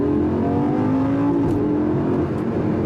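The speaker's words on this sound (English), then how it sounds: "Those gear shifts are so fast, it's absolute madness." Lamborghini Gallardo LP560-4 accelerating hard through very quick gear shifts, a loud steady engine roar with a rising pitch that briefly dips at a shift before climbing again, heard from inside at close range.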